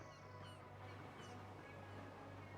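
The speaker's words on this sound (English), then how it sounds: "Much better bird sounds in this game than the B movie." Bird calls in the video game On Your Tail: faint goose-like honks and fowl chatter over a low steady hum of ambient game background, quiet and continuous with no speech.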